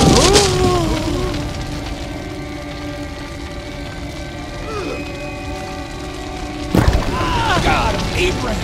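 Dramatized biblical scene of fire falling from heaven: a deep booming rumble that swells and trails off, then a second loud crash near the end, with shouting voices layered over the effect.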